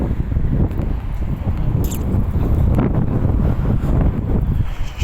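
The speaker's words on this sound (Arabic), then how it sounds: "شوية هوا ملهمش حل في الجو الحر ده" Wind blows steadily outdoors across a green countryside spot on a hot day, a loud continuous rush with buffeting on the microphone throughout.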